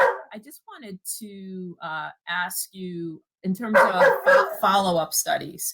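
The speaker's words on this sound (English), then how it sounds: "my dog in the background is agreeing with you" A pet dog barks intermittently in the background, a few sharp yaps mixed in with a person's steady speech nearby.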